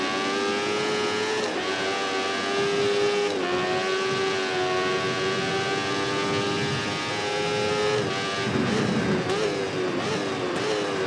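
MotoGP motorcycles roar and whine through gear shifts in the VR46 racing game, with a continuous loud engine drone and brief dips and rises around braking points.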